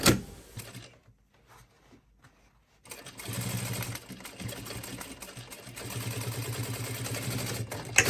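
A sewing machine stitching a line on a shopper bag, a brief whir, a quiet pause, then a steady close mechanical rattling hum running continuously to the end.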